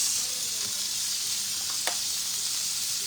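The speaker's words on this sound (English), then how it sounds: "Listen to that sizzle." Greens sizzling in a frying pan, a soft steady hiss with a few faint clicks and stirring scrapes, no talking.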